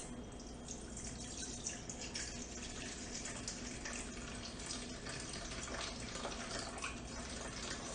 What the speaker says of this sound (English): to that bowl we're going to add our water